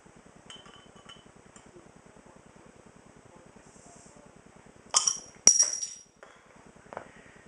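A bottle opener pops the cap off a BrewDog Hardcore IPA bottle, two sharp metallic clinks with a short hiss of release, close and clear over a faint low hum.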